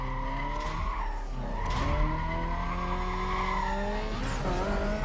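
Mazda RX-8 racing in the video game Need for Speed: Carbon, engine revving with repeated tire squeals as it drifts through corners, loud and close with no talking.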